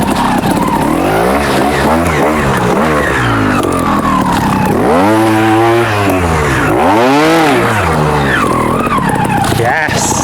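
A trials motorcycle on tyres at 6 psi climbs a hard section, its engine revving and surging loud and close in rising and falling sweeps, with a strained, squealing edge.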